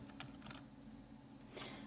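A few sparse, quiet key clicks from someone typing on a computer keyboard, scattered across a short stretch over a steady low background hum.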